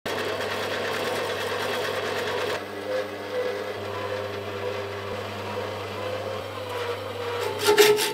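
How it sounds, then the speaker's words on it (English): Bandsaw cutting slots into a metal lathe tool part, a steady whining hum with gritty rasping from the blade in the workpiece, a tone change partway through, and a few clunks near the end. "that means carefully cutting them in the bandsaw"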